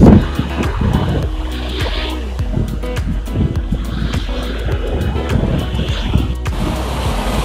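Lake water splashes against shoreline rocks along an urban waterfront trail in Toronto, with irregular sloshing bursts under gusty wind buffeting the microphone.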